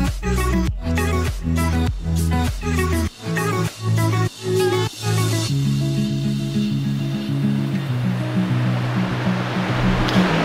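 Phelps Brook, at the former Marcy Dam site near Mt Marcy in New York, rushes in a continuous broad hiss of flowing water, preceded by a run of rhythmic, tonal pulses in the first few seconds.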